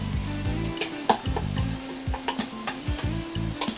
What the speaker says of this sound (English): Now I'm going to go ahead and add my onions to my garlic. And give that a stir.